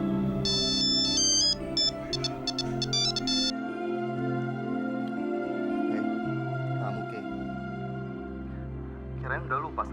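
An electronic phone ringtone for an incoming call plays in bursts of bright repeating tones over steady background music, with some talk later on.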